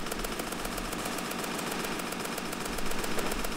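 Rapid, steady gunfire from a gun in a Roblox zombie game, a continuous fast-ticking stream of shots at moderate loudness with no talk over it.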